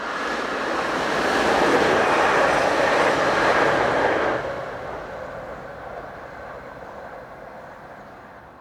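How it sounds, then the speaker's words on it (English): Desiro Class 380 electric train 380-109 on the Glasgow to Ayr service runs past near the coast, a loud broad rumble and rush that builds, holds, then eases off into a quieter fading roll. "This is 380-109, working train 1K15, the 932 from Glasgow to Ayr."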